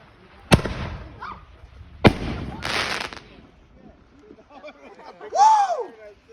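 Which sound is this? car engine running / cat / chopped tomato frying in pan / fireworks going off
fireworks going off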